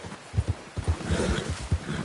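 Horse galloping in a PS4 video game, heard as a steady run of rhythmic, fairly close hoofbeat thumps with no talking over them.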